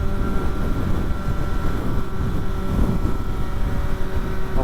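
A loud 600 motorcycle engine drones steadily while riding, its low hum and tonal whine partly buried under heavy rushing wind noise, with no talk.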